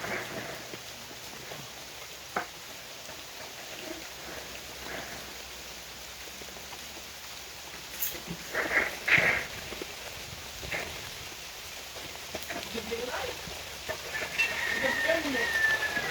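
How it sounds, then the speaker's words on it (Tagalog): Steady rain falling outdoors, a soft continuous hiss with occasional drops and thumps, faint and spread out, with a few birds chirping and a voice speaking briefly. "Yan po umulan."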